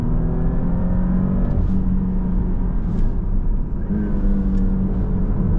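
A Porsche Panamera engine drones loudly and steadily in Sport Plus mode while driving, a close, continuous hum from the cabin with slight shifts in pitch.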